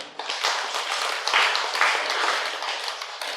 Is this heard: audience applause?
yes